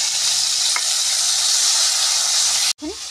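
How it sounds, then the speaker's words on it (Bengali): Bitter gourd fries in hot oil in a pan. The sizzle stays loud, steady and close for nearly three seconds, then cuts off sharply, and a brief voice follows. "করলাগুলোকেও ভেজে নেব।"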